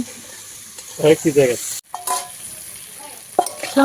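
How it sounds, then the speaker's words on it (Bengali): Potato sizzles in hot oil with intermittent stirring and clinks, while a voice speaks briefly over it. "আলুটা ভাজা হচ্ছে"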